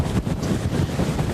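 Strong tropical-storm wind gusts from Hurricane Ian in Orlando buffet the microphone, a loud continuous rushing roar with uneven surges and no voices.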